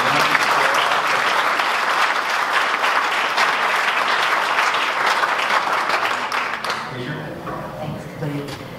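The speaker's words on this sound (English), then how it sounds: "big round of applause for all of the candidates" Sustained applause from a debate audience for the candidates, dense clapping from a crowd that carries steadily and then thins out toward the end.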